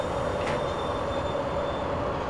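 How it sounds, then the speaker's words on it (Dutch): A BR 10 train on the Köln–Düsseldorf route in Train Simulator 2014 slowing to a stop: a loud, steady rolling rumble with a thin, sustained whine running through it. "Ik zal even wachten tot de trein tot stilstand komt natuurlijk."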